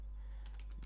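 Brief, quiet clicking of a computer keyboard as text is typed into a game being built in RPG Maker, a few keystrokes over a low steady hum.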